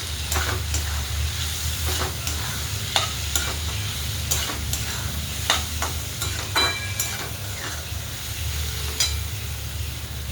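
Spoon stirring black masala (kala masala) into a cluster bean (gavar) curry in a pan, with a steady sizzle of frying beneath repeated scraping strokes, close and continuous with no talk.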